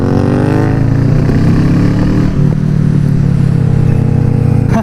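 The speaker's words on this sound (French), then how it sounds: "Passage de vitesse ça pète hein." Kawasaki Z650 motorcycle with a full, de-baffled X-Race exhaust, loud close engine drone through a gear change with sharp popping crackles from the exhaust, running steadily throughout.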